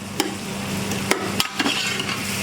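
Onions fry in a pan for lamb shatkora. A steady close sizzle runs throughout, broken by a few sharp taps of a utensil stirring, with no talking.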